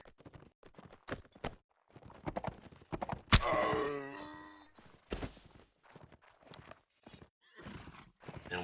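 Horses in a video game match clip-clop in quick, irregular steps, and one loud whinny rings out near the middle amid close, busy hoofbeats.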